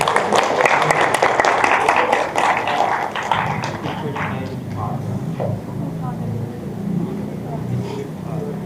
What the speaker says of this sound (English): give an applause to our speakers